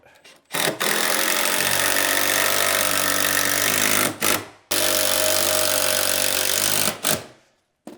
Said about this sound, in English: We're just going to screw straight through the bottom plate into our joists.